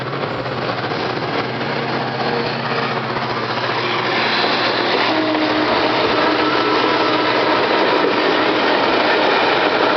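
A GMU30 diesel locomotive engine idles or runs on a Pakistan railway, producing a steady, loud, broadband mechanical roar with a deep rumble underneath, constant and close throughout with no talking.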